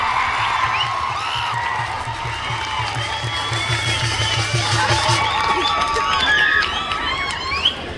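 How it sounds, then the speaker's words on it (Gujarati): A crowd at a political gathering in Mahuva, Surat, applauds loudly and without a break, with shouts and cheers mixed in and voices running underneath. "ભાઈ શ્રી ચેતરભાઈ અને આનંદભાઈને જોરદાર તાળીના ગણગણથી સન્માન કરો"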